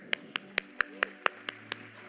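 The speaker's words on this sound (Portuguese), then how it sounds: "Palmas para o Paulo." Hands clapping in a steady, evenly spaced rhythm of about eight sharp claps over two seconds, fairly close and isolated, as an audience cheers a participant named Paulo during a talk on generosity.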